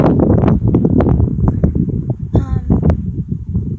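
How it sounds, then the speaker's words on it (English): Gusty wind buffeting the microphone in loud low rumbles while a person talks over it. "I know it's windy, I hope you can still hear me."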